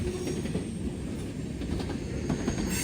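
A new IAC diesel locomotive rolling past a Muncie rail crossing, giving a steady broadband rumble and wheel roar, close and fairly loud and continuous, with no voices.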